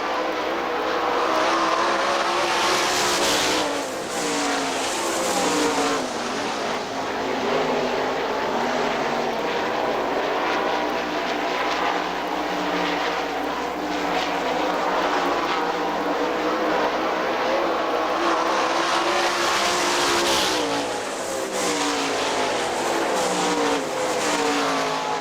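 Outlaw sprint cars race around Hartford Speedway Park, their engines roaring loud and continuous as the pack sweeps past, swelling near the start and again toward the end with rising and falling pitch.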